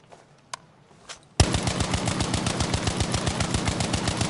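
An STG rifle in Battlefield V fires in rapid, evenly spaced, loud shots after a few faint clicks. The fire runs on steadily to the end.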